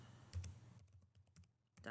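Typing on a computer keyboard, a quiet run of close, quick key clicks over about two seconds, with a brief pause partway through.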